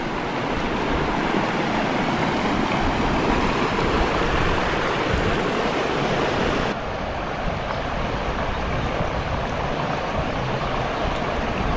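Fast floodwater surges through a flooded city street in Gujrat, a loud, continuous broadband rush and roar that stays steady throughout with no voices.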